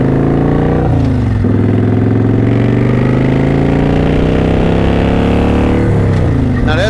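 Loud, steady motorcycle engine droning close by, its pitch shifting as it revs up and settles.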